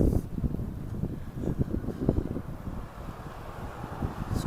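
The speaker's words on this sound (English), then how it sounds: "The wind is really sharp." Sharp, cold early-spring wind buffets the microphone outdoors on a downtown street in Regina, a steady low roar and rumble with gusty swells and no clear voices.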